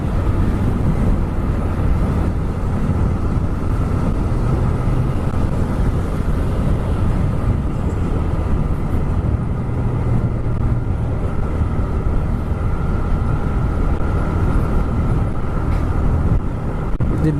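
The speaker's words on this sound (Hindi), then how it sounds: "हवा की आवाज़ आ रही होगी या एग्जॉस्ट की आवाज़ आ रही होगी" Steady, loud roar of a TVS Raider 125 motorcycle's exhaust blended with rushing wind buffeting the microphone while riding on Delhi roads, a continuous drone with no breaks.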